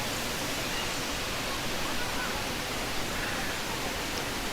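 The Barabakhara waterfall in Bargarh, Odisha, roars as a constant dense rush of falling water, loud and even throughout with no break.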